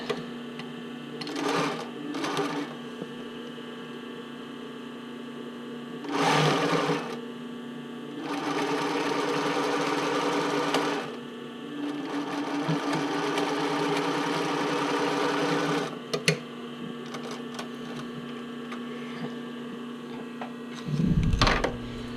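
Sewing machine stitching zigzag rows on decorative elastic for a bra cup overlay, running in several bursts of steady mechanical whirring with short pauses and a brief stop between runs.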